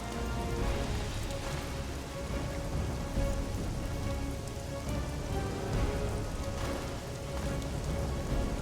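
Steady, dense rain pours in the Witcher 2 game world during the siege of Vergen, a loud continuous hiss of drops on surfaces with no voices over it.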